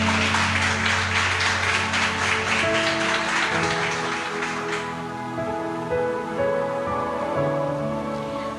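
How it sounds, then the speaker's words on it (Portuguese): A church congregation at an IBARC service claps in praise, a thick, even burst of applause over sustained keyboard chords, thinning out after about five seconds while the held music carries on alone. "Aplaude o Senhor Jesus."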